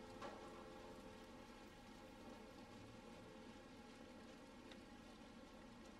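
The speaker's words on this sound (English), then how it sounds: "I kind of like the rain here." Steady rain in the video game Little Nightmares II, a soft, continuous hiss of falling drops at low volume, with no voices.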